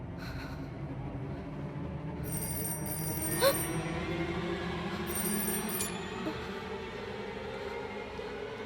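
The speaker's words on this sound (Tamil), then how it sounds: "ஃபோன் ரிங் ஆச்சு" A telephone rings faintly inside a quiet old house, with two short bursts of trilling rings separated by a pause over a low background hum.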